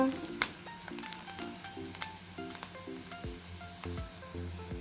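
Onion and masala fry in oil for a spiced potato bhaji, a soft steady sizzle with sharp clicks and taps from stirring, heard close but at low level, with faint background music tones.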